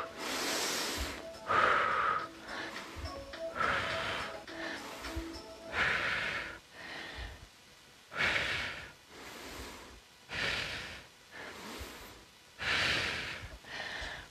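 Rhythmic yoga breathing during a guided exercise, with repeated loud inhales and exhales in a steady cycle, sounding close and unaccompanied by talk.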